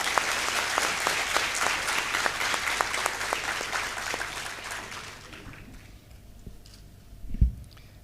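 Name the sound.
audience applause welcoming a speaker at a university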